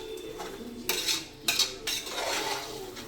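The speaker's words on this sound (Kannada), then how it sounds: "ಈಗ ನಾವು ಬಿರಿಯಾನಿನ ತಿರುಗಿಸ್ಬೇಕಾದ್ರೆ ನೋಡಿಲ್ವಾ, ಮಸಾಲೆ ಎಲ್ಲ ಕೆಳಗೆ ಹೋಗುತ್ತಲ್ಲ" Homemade biryani rice and masala stirred in a pot, close and continuous scraping and clinking of a metal spoon against the pot, with a few sharper knocks and no talking.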